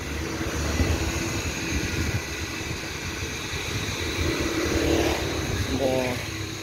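Busy street traffic in Nai Harn, Phuket, Thailand, with a motorbike engine droning past amid other vehicles, steady and fairly loud, with people talking in the background.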